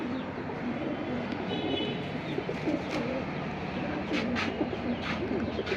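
Pigeons at a Bangladeshi pigeon seller's collection coo softly and continuously at close range, with a dense murmur of birds throughout and faint chirps mixed in.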